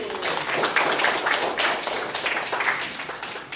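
A class of schoolchildren claps together in a lively, fairly even burst of applause lasting several seconds, close and loud.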